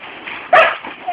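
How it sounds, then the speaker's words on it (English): A single short dog bark rings out close by, following a brief quiet stretch. "Bark. Yeah, good girl."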